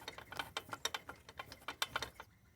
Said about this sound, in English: And then throw the socket wrench on